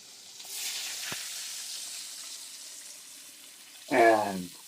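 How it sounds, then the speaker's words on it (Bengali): Water is poured into a pan of sautéed chicken soup: a soft sizzle hisses at first, then a short, louder splashing burst near the end. "হয়ে গেছে কষা, এবার দিয়ে দেবো একটু জল।"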